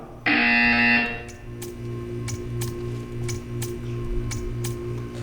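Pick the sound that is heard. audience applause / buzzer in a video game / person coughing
buzzer in a video game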